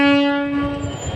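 A train from Dhaka Kamalapur arrives at the Rajbari railway gate, its loud horn blaring in one sustained note that slowly fades under low rumble.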